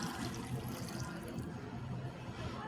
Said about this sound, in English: you want to just cover them with water